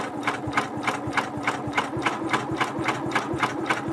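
A Janome MB4 embroidery machine stitches a zigzag appliqué edge over a quilt block, with a steady, rapid rhythmic needle clatter up close, each stroke distinct and evenly spaced, running alone without pauses.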